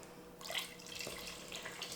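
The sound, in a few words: water pouring into a cooking pot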